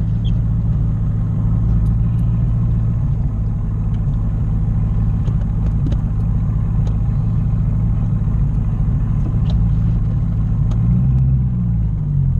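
A Corvette Z06 sports car cruises down Rodeo Drive in Beverly Hills, its engine a steady, loud low rumble that continues throughout, with a slight rise in pitch near the end.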